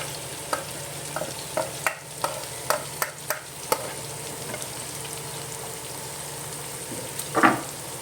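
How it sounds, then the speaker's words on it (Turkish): Peppers and vegetables sautéing in a pan for a vermicelli pilaf, a soft steady sizzle with intermittent scrapes and stirring taps, ending in a louder clatter of the utensil. "Bu da biraz sotelensin şöyle güzel kavuruyor."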